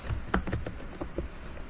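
Quick bursts of typing on a computer keyboard, a dozen or so close, light key taps in an uneven rhythm.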